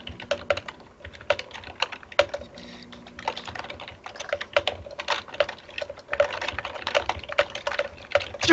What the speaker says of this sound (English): Furious typing.